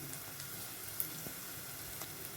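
Green chilies frying in a pan with onions, a faint, steady sizzle with occasional tiny pops throughout.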